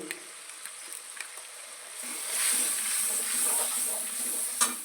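Onions frying in a pan with garam masala and meat masala powder give a steady hiss and sizzle that swells midway, with a few light stirring clicks and no voices.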